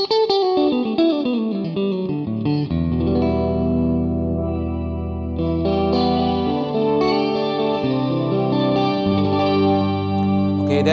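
Electro-Harmonix POG 3 octave pedal with its filter turned fully down for a low-pass tone, shimmer gone: sustained layered notes with deep octave pitches under a darker, rounded top, chords changing slowly, loud and unbroken.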